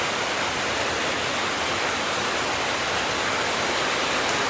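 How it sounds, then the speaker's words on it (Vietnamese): Heavy rain falls on a village in a steady, loud, wall-like roar of hiss, close and constant with no other sounds breaking through. "Hôm nay trời đã mưa."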